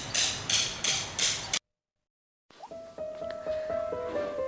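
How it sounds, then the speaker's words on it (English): A hammer drives metal earth spikes into the ground for telecom earth resistance testing, four sharp rhythmic blows close up, followed by a silent gap and then faint metallic clinks and a thin ringing tone. "Insert potential spike and current spike into the ground with the help"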